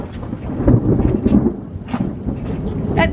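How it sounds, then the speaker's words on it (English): Low rumbling thunder from an approaching storm rolls continuously through the clip, broad and heavy with no talking over it. "That's thunder. There's a storm coming"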